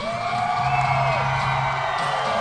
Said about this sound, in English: This crowd is on fire for Mike Doss tonight.